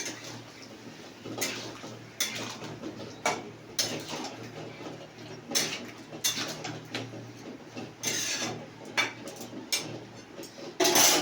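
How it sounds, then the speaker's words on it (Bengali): Stirring a cooking dish in a pot just after water is added, heard as irregular scraping and clinking of a utensil against the pot, several bursts spread across the stretch at moderate loudness with no talk. "জল দিয়ে যখন বান্নাটা নাড়তে হবে"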